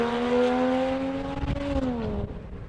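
A Porsche Cayman 987 S with a loud aftermarket exhaust holds a deep, loud idle with a throaty note, the pitch dipping slightly before settling as it quiets.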